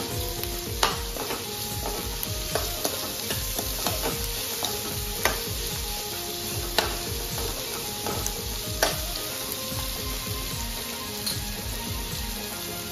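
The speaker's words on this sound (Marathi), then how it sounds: "कांदे पण आपण गोल्डन करून घेणार आहोत थोडे" Onions frying until golden in a pan, a continuous bright sizzle broken by regular scraping and tapping as they are stirred, with no voices.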